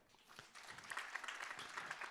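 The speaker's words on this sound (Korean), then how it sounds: "자매님 박수 주세요." A church congregation at a Sunday service claps in response to a sermon, with faint, scattered applause that grows into brief, moderately dense clapping.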